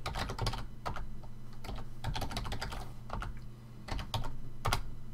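Rapid clicks from a computer keyboard as someone types in bursts, close and clear, with short pauses between runs of keystrokes over a faint steady hum.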